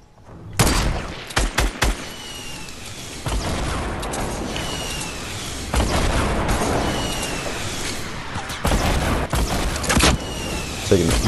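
Bursts of gunfire and booms from the video game Fortnite crackle in rapid, irregular volleys over several seconds, loud and close, with players talking over the shooting.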